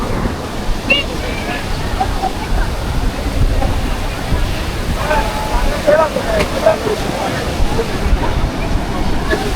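Loud, continuous rough-sea surf roars close by at Cox's Bazar beach, broad rushing water noise with wind, and faint voices scattered through it.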